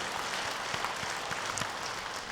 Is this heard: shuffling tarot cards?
no